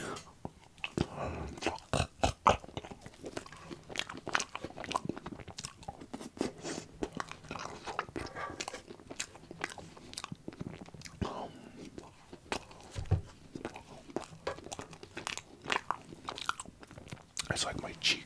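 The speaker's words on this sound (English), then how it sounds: "I always say, how's he chew ice cream?" Close-up ASMR eating of ice cream: crisp, repeated bites and wet chewing crunches fill the recording in a steady, uneven rhythm, with occasional soft whispering between mouthfuls.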